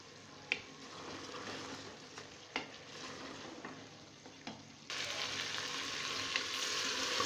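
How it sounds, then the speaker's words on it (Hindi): Mutton frying in a pot with black pepper added, a low steady sizzle with occasional spoon knocks and scrapes, the hiss swelling louder and brighter in the final seconds. "अब मैं इसमें काली मिर्चें डाल दूंगी और मज़ीद 2 मिनट के लिए भूनूंगी"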